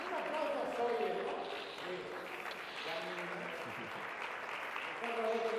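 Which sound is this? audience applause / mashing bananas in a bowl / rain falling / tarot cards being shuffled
audience applause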